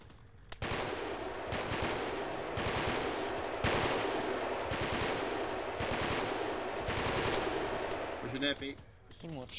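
Sustained machine gun fire in a video game, a long rapid continuous burst of shots with a few brief breaks, loud and close, with brief voice chatter at the end.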